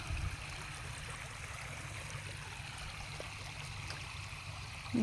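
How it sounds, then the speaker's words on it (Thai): Floodwater flows steadily across farm fields in Thailand with a soft, continuous rushing and gurgling, quiet and even throughout, with a brief louder bump at the very end. "ข้างเสียงน้ำไหล"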